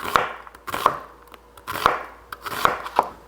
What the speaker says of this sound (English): And then I want to run the knife just like so, across, okay? Get a nice small thin julienne onion.